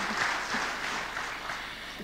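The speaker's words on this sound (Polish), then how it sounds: "Konkurs na najdłuższe oklaski wieczoru z pewnością pan premier Olszewski wygrał." Sustained applause from a gala audience honouring Prime Minister Olszewski, a dense, steady clapping that fills the room evenly for the whole stretch with no voices over it.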